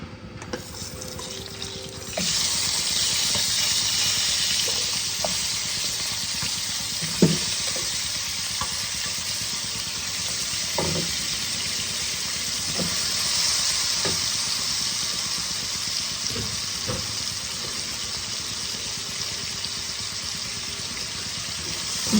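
Lote dry fish, cleaned and washed, frying in a pan: a loud, steady close hiss of hot oil starts abruptly and holds, with occasional clanks of a utensil turning the fish.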